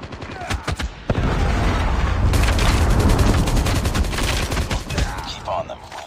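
A predator missile strike explodes in Call of Duty Mobile, a loud, dense roar of blasts mixed with rapid gunfire that swells after a short pause and rumbles on for several seconds before tapering off.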